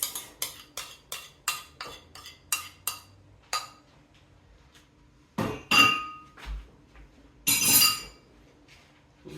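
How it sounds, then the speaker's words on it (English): A whisk or fork beating eggs in a bowl for butter pecan raisin muffin batter, with a run of about ten sharp, evenly paced clinks against the bowl, then a few longer, louder scraping and stirring bursts, close and without talk. "Beat our eggs."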